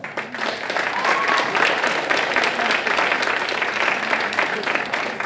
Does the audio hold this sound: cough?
no